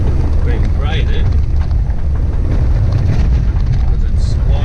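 Heavy wind buffets the microphone on a bumpy, freshly graded outback dirt road, a loud constant low roar with no break and faint rattles in the background.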